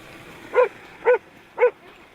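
A dog gives three evenly spaced, sharp barks, close and loud over a steady background hum, during a search-and-rescue style sweep exercise.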